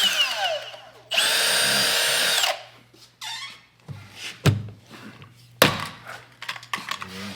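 A power drill whines in a steady burst, drilling holes for rivets, followed by clattering knocks and tool handling nearby.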